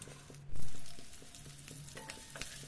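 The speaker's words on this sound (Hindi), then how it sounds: "मैं शिमला मिर्च को इसमें मैं फ्राई कर लेती हूँ" Chopped capsicum fries in refined oil in a kadhai, a soft sizzle and crackle rising with a burst as it goes in, then settling beneath light stirring taps.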